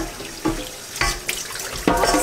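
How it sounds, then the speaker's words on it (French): Kitchen tap water splashing into a tomato can as it is rinsed out, a few short bursts of running water close up, alone without talk. "rincer un petit peu la boîte"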